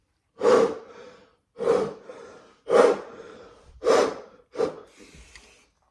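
Five deep, forceful breaths drawn in a steady rhythm, each a loud rushing inhale that tails off, from a horn player warming up before practicing Tchaikovsky's Symphony No. 4 in a practice room.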